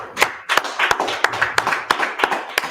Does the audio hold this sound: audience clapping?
yes